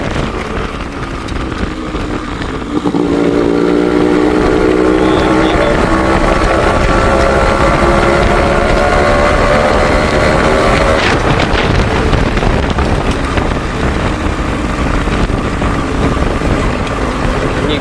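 A Yamaha RX100 motorcycle in Red Bull edition livery rides steadily, its two-stroke engine droning loud and close with rising pitch as it pulls, buffeted by heavy wind noise throughout.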